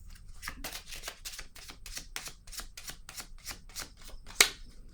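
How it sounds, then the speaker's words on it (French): Tarot cards being handled and laid down one after another, a quick rhythmic series of soft close-up paper flicks and slaps ending with a sharper tap, with no voice. "Je vais déposer une carte sur le guide."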